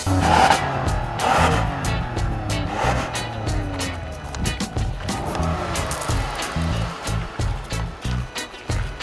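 A 2014 Toyota Sienna minivan engine rumbles and climbs in pitch as it accelerates, with road and tire noise close by and no talking.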